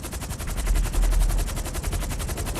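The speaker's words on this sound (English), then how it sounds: "Somebody's shooting at me." Rapid automatic gunfire from a video game, a steady, dense stream of shots running loud and close throughout, with no talking.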